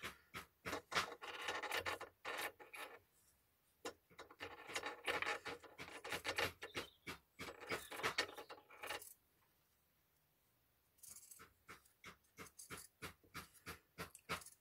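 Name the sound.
scissors cutting fabric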